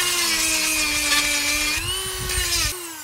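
A Dremel rotary tool grinds the teeth of a chainsaw chain, giving a steady high-pitched whine that shifts slightly in pitch as it moves from tooth to tooth, close and continuous without speech.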